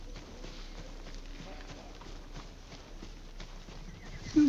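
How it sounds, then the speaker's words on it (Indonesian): Horse hooves clip-clopping in the video game Ghost of Tsushima, a steady faint run of soft hoofbeats with quiet ambience, ending in a brief louder knock. "Ada kuda."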